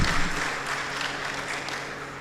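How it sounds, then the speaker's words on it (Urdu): An audience at a poetry mushaira in Dubai claps in a dense, sustained wash of applause that fades slightly toward the end. "تو ان کے لیے ضرور ایک بار تالیاں بجاتے ہیں"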